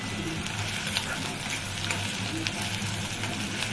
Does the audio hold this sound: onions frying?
yes